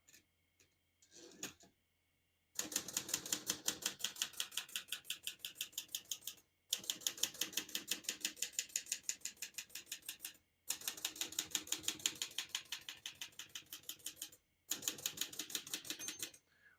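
Rapid mechanical keystrokes on a 1965 Olivetti Lettera 32 manual portable typewriter clatter in long bursts separated by short pauses, close and crisp, with a few isolated clicks before the typing begins.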